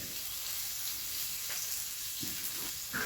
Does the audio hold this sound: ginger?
yes